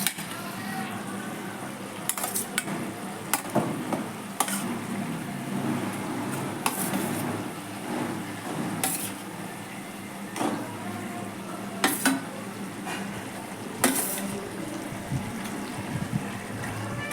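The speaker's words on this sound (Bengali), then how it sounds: "এবার আমি আস্তে আস্তে করে মাংসের পিসগুলো একটা একটা করে আমি দিয়ে দিলাম" Chicken pieces for Afghani chicken go into a simmering pot one by one, a steady bubbling sizzle broken by intermittent clunks and splashes, close and moderately loud.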